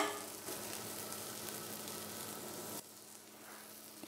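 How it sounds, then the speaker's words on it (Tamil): Teriyaki sauce hits chicken in a hot pan with a loud, close sizzle that holds steady, then drops suddenly to a quieter hiss near the end. "இப்போ நம்ம தெரியாக்கி சாஸ் இதை போட போகிறோம்."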